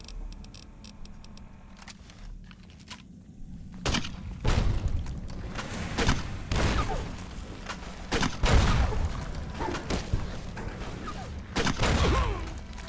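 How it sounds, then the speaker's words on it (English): Grenade rifle rounds and blasts in Fallout New Vegas, a series of loud broadband bursts at irregular intervals over a busy game soundscape with mechanical clicks. "this is the perfect time to use the grenade rifle"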